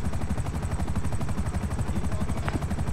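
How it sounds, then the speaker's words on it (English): A helicopter in a video-game prison breakout scene, its rotor chopping in a steady, loud, fast rhythm close by for the whole stretch, with no speech over it. "I don't want to get out because I can't do nothing with this helicopter."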